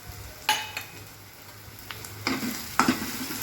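Spices sautéed with bitter gourd in a pan for a dry karela dish, a steady soft sizzle broken by several sharp scraping stirs of a spatula.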